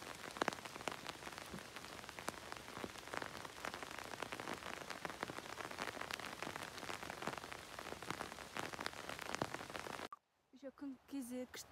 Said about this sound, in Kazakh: Бірақ жаңбыр жауып отыр.